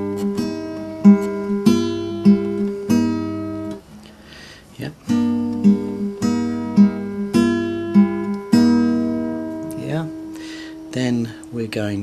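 Acoustic guitar picks out notes of a theme, a repeating figure with fretted and pulled-off notes, close and clear, pausing briefly midway before resuming, with no talking over it.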